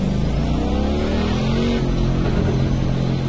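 A W Motors Lykan Hypersport in a racing video game roars steadily at close range, its engine note rising and falling through revs in a continuous, loud drone with no talking over it.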